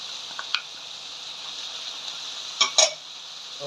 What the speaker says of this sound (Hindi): दो मीडियम साइज के टमाटर है इसके अंदर जाएंगे